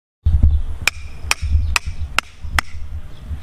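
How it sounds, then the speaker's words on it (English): A hammer strikes a piece of pipe five times in a steady rhythm to punch a plug from garden soil, each close sharp metallic clank over low thuds and rustling. "He got a piece of pipe and a hammer. He's gonna take a little plug out"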